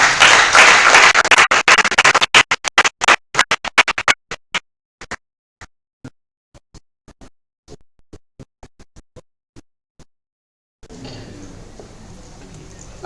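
Audience applause at a business conference: a dense burst of clapping that thins out into scattered single claps and dies away, then room noise returns.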